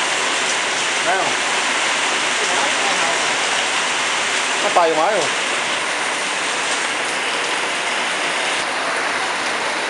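Heavy rain pours in a steady, dense roar, with a voice briefly speaking over it.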